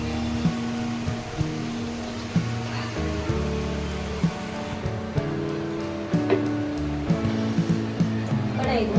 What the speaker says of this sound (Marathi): आता इकडे पाणी काढून घेते